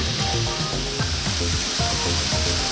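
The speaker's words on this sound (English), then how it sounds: "You want to leave the mushrooms alone while they're cooking so they get a nice sear." Mushrooms sear in a hot pan with a steady, close sizzle that runs throughout, with a light musical backing playing over the frying.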